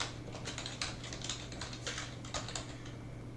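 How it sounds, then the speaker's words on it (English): Typing on a computer keyboard while entering a username for a Path of Titans server setup on an old PC, a quick steady patter of close key presses over a low constant hum, with no talking. "go ahead and type in your own username"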